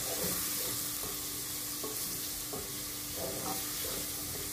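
Flour is stirred into sautéed spinach frying in a pan for spinach soup: a steady sizzle runs underneath, with a spoon scraping through the mixture in regular strokes, and no voices.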